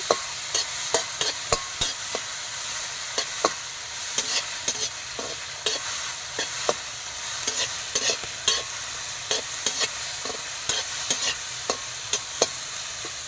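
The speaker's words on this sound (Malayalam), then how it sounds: "ലേശം നെയ്യ് ഒഴിച്ചു കൊടുക്കണം അതിൽ പഴം ഇട്ട് കൊടുക്കാം ഒന്ന് ഇളക്കി കൊടുക്കണം" A spoon stirs banana frying in ghee in a pan, with scraping strokes that come in a steady, repeated rhythm over a soft, constant sizzle.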